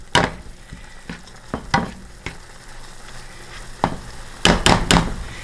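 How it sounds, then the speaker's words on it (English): Onions and celery with garlic and sage dressing sautéing in a pan, a continuous sizzle punctuated by several sharp spoon knocks and scrapes, close and moderately loud. "I'm just going to let this saute"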